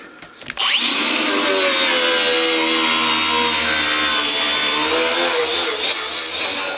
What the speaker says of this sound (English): I'm going to take my grinder with a cup brush on it and clean that up